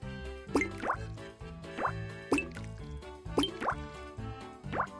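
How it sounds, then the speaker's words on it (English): Five ice cubes dropped one after another into a strawberry and lemon drink, each landing with a plopping, bubbly drip, spaced about a second apart over soft background music. "Max, 5 ice cubes should do the trick."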